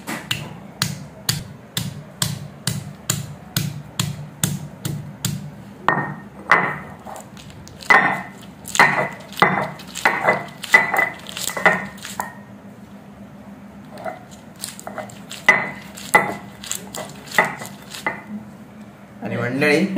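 Karvanda berries being crushed by hand on a traditional grinding stone for Malvani chutney: a run of sharp, rhythmic knocks and squishy thuds, close and fairly loud, in quick bursts separated by short pauses.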